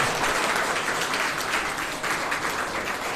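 A crowd of students claps continuously at an award felicitation, dense sustained applause filling the room at steady loudness throughout.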